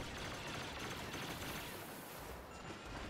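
Turbo laser turret fire in Star Wars Battlefront, a dense, loud, unbroken stream of rapid blasting shots, alone without talk.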